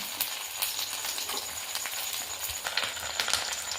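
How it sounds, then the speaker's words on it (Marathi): Rava gulab jamun balls frying in hot oil, a soft continuous sizzle with scattered crackling pops at a steady level, no voices present. "मंदाच्यावर याला लालसर असं तळून घ्यायचं आहे"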